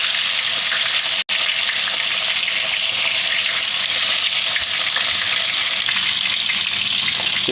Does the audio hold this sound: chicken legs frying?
yes